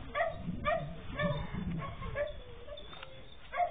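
Young puppies whimper and yip close by in short, repeated high cries while they nurse, with several overlapping squeals spread across the moment.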